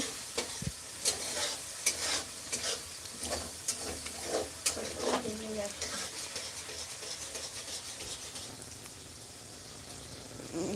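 Hilsa fish simmering in mustard-poppy sauce sizzles in a pan as a little water goes in, with repeated scraping stirs and clinks that settle into a quieter hiss near the end.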